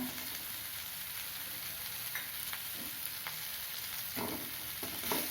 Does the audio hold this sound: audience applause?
no